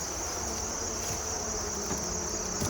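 Honey bees buzz steadily around an open, tipped-up hive box holding only a little comb, late in the season before winter, a continuous close insect drone with no talking.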